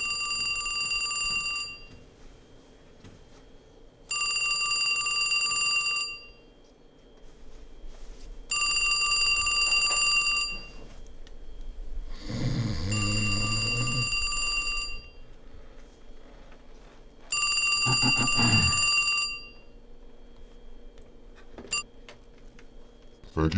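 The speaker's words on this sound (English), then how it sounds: "Phone's ringing." A telephone bell rings in repeated bursts, about two seconds each with pauses between, loud and close, over a low background hum, with another brief sound in one of the gaps.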